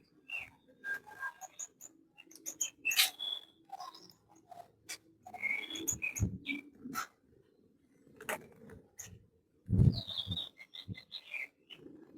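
Golden finches and zebra finches at a breeder's aviary give scattered high chirps and short tweets, some near and some farther off, spread irregularly over a low background hum with occasional thumps.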